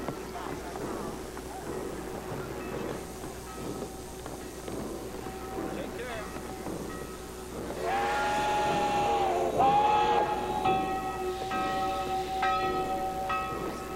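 A train whistle sounds in bursts over a steady station murmur, with a bell ringing along with it near the end.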